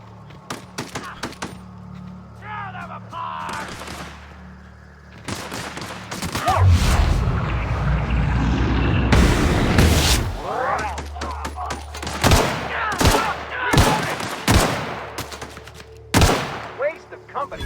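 Gunfire in The Outer Worlds rings out in loud, sharp bursts and rapid volleys, with a sustained roaring stretch midway and scattered shots at the end.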